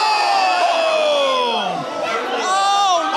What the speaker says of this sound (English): This crowd is calling one more time.